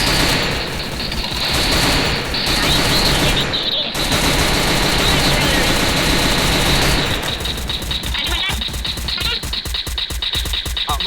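Rapid automatic gunfire from the Free Fire battle royale mobile game rattles almost without pause, loud and dense, with sharper staccato bursts toward the end.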